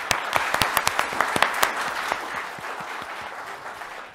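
An audience applauds students at an astronomy talk, a burst of sharp individual claps up front that thins into a softer, steady patter as it fades.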